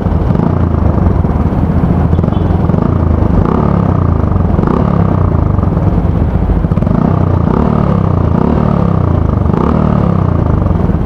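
Yamaha Vega Force FI motorcycle running through an exhaust fitted with twin SC Project silencers, giving a steady, loud, close engine drone with a rhythmic low pulsing throughout and no talk.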